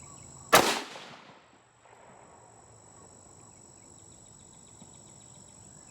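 A single .223 rifle shot from a Howa 1500 Varminter cracks sharply and loud, then its report fades into a decaying echo over about a second, leaving quiet outdoor ambience with a steady insect-like hum.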